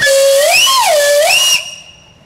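A loud steam whistle blows with a wavering, rising-and-falling pitch for about a second and a half, then cuts off, leaving a faint hiss.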